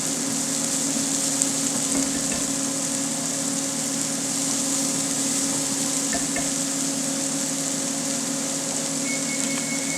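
Chopped shallots sweat in a frying pan, giving a steady, even sizzle with a constant bright hiss that runs unbroken and fairly loud for the whole stretch, with no talking.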